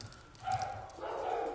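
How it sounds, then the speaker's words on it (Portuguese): Dogs bark in short, excited bursts that overlap and carry at a moderate distance. "So dogs are barking like crazy here."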